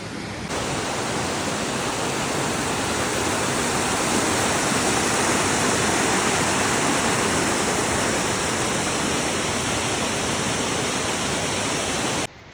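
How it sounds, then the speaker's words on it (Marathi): A hidden jungle waterfall near Jawhar, Maharashtra, roars with rushing water as a dense, steady, loud wash of sound, close by and unbroken, with no voices heard. "हा खूप आतमध्ये वॉटरफॉल आहे जंगलामध्ये एकदम"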